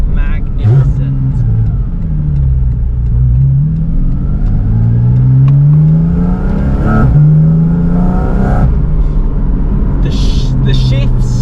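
A fast car accelerates hard from inside the cabin. Engine pitch climbs in long sweeping pulls, drops at each gear shift, then climbs again, with people talking over the loud, steady roar.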